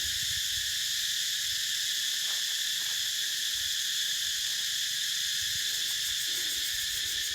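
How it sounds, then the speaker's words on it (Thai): Cicadas buzz outdoors in a steady, dense, shrill drone that fills the whole stretch without pause, with faint low rustling underneath and no talking. "นี่คือเสียงจักจัน"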